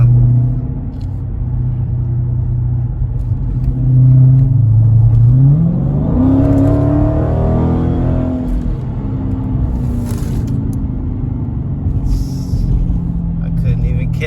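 A Dodge Challenger Scat Pack fitted with a Hellcat lower airbox accelerates hard on a small street, its engine rumbling and climbing in pitch through a pull before easing off, with someone talking over it.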